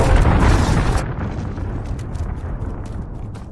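A cruise missile strike explodes in a Modern Warfare team deathmatch, opening with a loud, close boom for about a second, then trailing into a fading rumble with faint scattered crackles.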